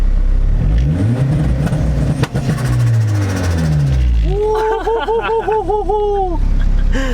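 A turbocharged Acura RSX Type S with an open downpipe revs hard, then bursts into rapid rhythmic stuttering pops, loud and close, with brief laughter over the engine.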